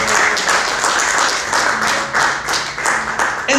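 A church congregation claps loudly in praise during a Bible lesson, a dense, steady wash of applause that carries on without a break for nearly four seconds.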